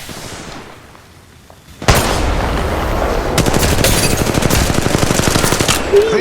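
Rapid enemy gunfire in Apex Legends Mobile bursts in loud after a quiet lull, a dense rattling stream of automatic shots with booming impacts, close and sustained for several seconds.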